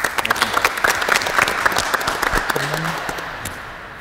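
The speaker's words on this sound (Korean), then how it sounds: "박수!" An audience at an indoor tennis event bursts into lively, dense clapping for a coach being introduced, loud and close, holding steady for about four seconds before easing slightly.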